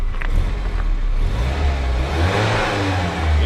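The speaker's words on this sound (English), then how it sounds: "go ahead and rev the engine up a little bit." A 1991 BMW 318is E30 coupe with the M42 engine and five-speed revs up smoothly from idle, its engine note rising and holding close by, with no talking.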